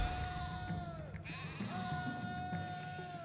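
Sheep bleat in the Roman city-building game Caesar III, several game-sound bleats with wavering pitch rising over a steady background of in-game ambience and music, fairly clear and close.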